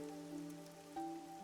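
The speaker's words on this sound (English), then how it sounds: "The rain, it never stops." Rain falls in the video game Rain Code, a steady hiss running throughout beneath sustained tonal music.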